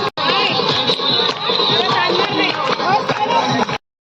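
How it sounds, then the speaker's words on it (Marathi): A group claps steadily at a special-needs school picnic in Alibag, the applause dense and continuous for several seconds with voices mixed in, then stopping abruptly. "सर्वांनी टाळ्या वाजवा"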